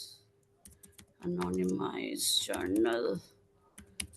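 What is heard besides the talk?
typing on a computer keyboard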